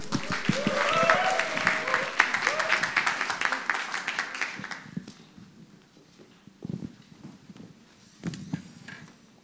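Youth worship congregation in a church applauds, thick clapping for about five seconds that fades out, followed by quieter scattered sounds and a few shuffling noises.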